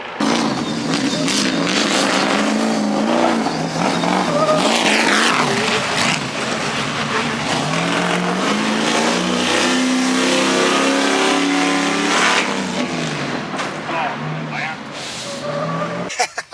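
Stadium Super Truck revving hard and skidding around the drift track at Charlotte Motor Speedway, engine roaring and tires screeching close by, with people talking over it throughout.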